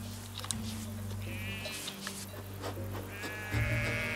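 Sheep bleating from a flock being gathered by a herding dog, several overlapping calls rising at intervals over a steady low hum, with a louder bleat near the end.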